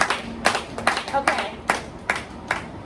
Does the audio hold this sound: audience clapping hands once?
yes